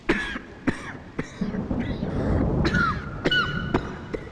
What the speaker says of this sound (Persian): همش این داره سرفه میکنه